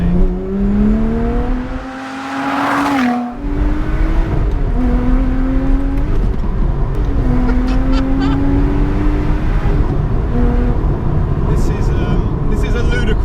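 A Lotus sports car drives with a loud engine whose pitch rises and falls through several acceleration pulls and gear changes, under continuous close talk.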